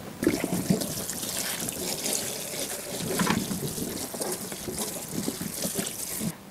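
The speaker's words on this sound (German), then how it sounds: "womit ich beginne, ist meine Trauben gut zu waschen" Grapes being washed under running water in a kitchen, a steady rushing stream and trickle with faint splashing, fairly close and continuous, ending in a brief louder knock.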